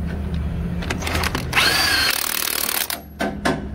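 Snap-on electric impact wrench tightening a truck wheel hub nut, giving short loud bursts of whirring, rattling hammering near the mic between brief pauses, with no talk.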